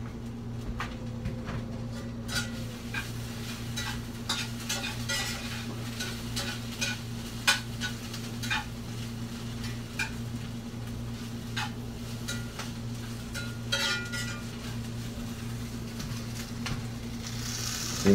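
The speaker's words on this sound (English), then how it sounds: "You can see that sizzle sizzle," Onions and peppers sizzle steadily in a cast iron pan, a constant hiss under a low hum, broken by frequent clicks and scrapes from a spoon stirring. No one speaks.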